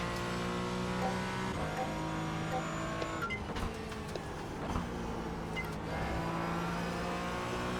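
A car engine under throttle, probably a race car on track, drones steadily at a loud, close level with gear shifts, brief dips and renewed pulls. There is no talk.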